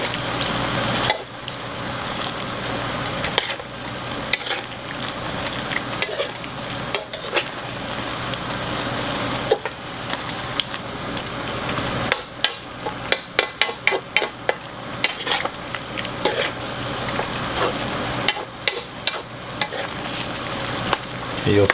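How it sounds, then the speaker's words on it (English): A spoon stirs a cornstarch-thickened sauce in a pan for stir-fry noodles, making a soft bubbling sizzle with scraping strokes and a run of sharp clicks against the pan partway through. "Give it a stir."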